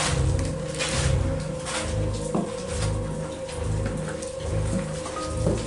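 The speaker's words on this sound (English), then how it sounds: "Yeah, I know, it's raining." Steady rain patters and drums on a surface nearby, a continuous dense hiss with occasional louder drops and low rumbling underneath.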